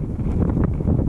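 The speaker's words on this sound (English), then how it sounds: "Especially when it's windy like this," Steady wind gusting across a high mountain lake in the Desolation Wilderness, a continuous low buffeting roar with rustling bursts pressing on the microphone throughout.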